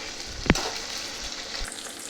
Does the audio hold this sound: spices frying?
yes